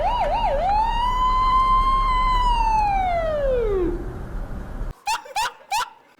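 A police siren wails in one long rising and falling sweep, then three short sharp whoops follow in quick succession, loud and close.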